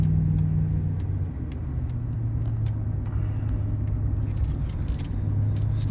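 GMC Sierra 2500HD pickup truck driving on a road, a steady low engine and road rumble heard from inside the cab, smooth and continuous with faint rattles and no talking.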